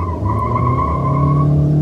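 A Mahindra XUV700 and a Volkswagen Taigun, each carrying four people, launch a drag race with loud steady engine drone and a rising tone, close and strong throughout.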